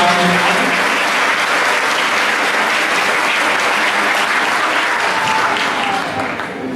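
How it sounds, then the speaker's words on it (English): Loud, sustained applause from an audience at a school move-up ceremony, many hands clapping densely throughout before tapering slightly at the end. "can you give them a round of applause?"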